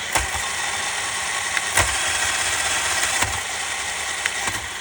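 A Tamiya 1/14 King Hauler RC truck's electric motor runs up through the gears, a steady whirring drone with occasional sharp clicks and ticks as it shifts, heard close and without talk.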